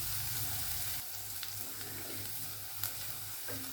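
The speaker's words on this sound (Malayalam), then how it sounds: "ഉള്ളി ഒന്ന് വഴട്ടുക. ഒത്തിരി വഴട്ടണ്ട, ഒരു ലൈറ്റ് പിങ്ക് കളർ ആവുന്നിടം വരെ ഒന്ന് വഴറ്റിയെടുക്കുക." Onions sautéing in a pan, a steady soft sizzle that continues throughout with a few faint clinks of a utensil, near and alone, for an Indian-style masala pasta.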